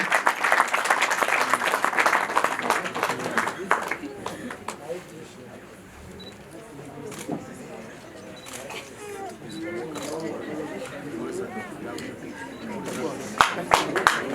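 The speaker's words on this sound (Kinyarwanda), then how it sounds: "Amashyi menshi cyane, amashyi menshi cyane n'impundu" Applause for a groom's mother at a Rwandan wedding, with talk over it, louder at the start, then a busier crowd stretch with sharp claps near the end; ululation is not clearly distinct.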